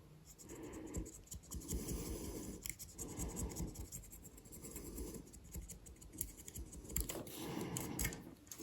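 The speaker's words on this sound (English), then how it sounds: "we can quickly take them down with a chisel" A small chisel scrapes raised plastic pad eyes off a 1/200 scale IJN Mikasa model kit deck in quick, repeated close-up strokes, each a soft rasping scratch at a quiet level.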